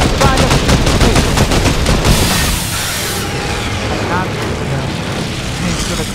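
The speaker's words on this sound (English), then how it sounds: "Who the hell is trying to shoot me?" Fortnite gunfire, a rapid automatic burst of loud shots in the first couple of seconds followed by dense rumbling game noise, with a voice talking over it.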